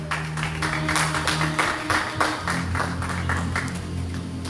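A church congregation claps during a Sunday morning service, steady rhythmic handclaps ringing out over a sustained low organ or keyboard tone, moderately loud and continuous.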